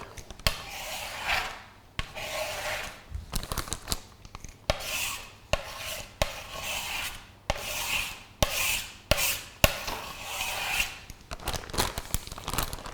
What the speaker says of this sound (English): we just want to scrape the buttercream and just place it in the bag